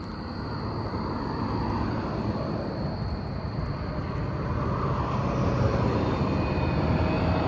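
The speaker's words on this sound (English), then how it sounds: "This is where you can watch the planes land." A loud, steady jet engine roar of an airliner passing low overhead on approach to land, heard from Etobicoke Creek Trail, sustained and rumbling throughout.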